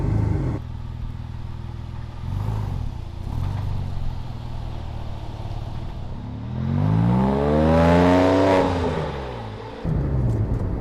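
A Porsche engine grumbles low and steady from inside the car while driving, then swells into a rising rev before dropping back, with a brief lull and a resumed rumble at the end.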